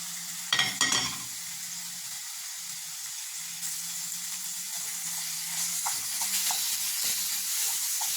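Minced meat is added to a pan of golden-browned onions: a clatter and scrape at the start, then a steady close sizzle and hiss with occasional stirring ticks, with no talk.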